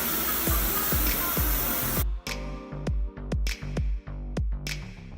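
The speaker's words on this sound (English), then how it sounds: "These are cheap airbrush guns" A cheap airbrush gun spraying paint for a cartoon artwork, a steady hiss followed by a series of short, regular bursts with brief gaps between them, close and fairly quiet.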